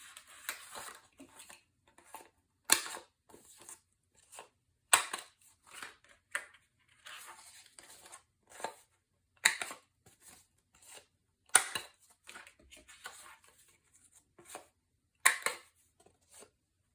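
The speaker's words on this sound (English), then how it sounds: "I'm going to take my corner rounder and just round both of these" A handheld corner rounder punch clips the corners of paper album pages with a series of sharp, close snapping clicks. Quieter paper handling and shuffling fill the gaps between clicks.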